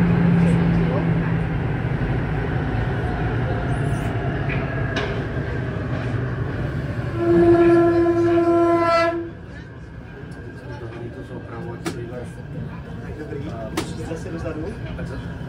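A line C metro train rumbles steadily, with a brief tonal horn or brake squeal mid-way before the noise drops to a quieter hum; no talk.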